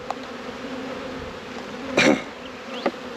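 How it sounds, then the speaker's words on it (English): Honeybees swarm around an opened hive during a post-winter inspection, a steady, close, droning buzz with one louder bee passing right by the microphone midway. "Look at all of them swarming around you."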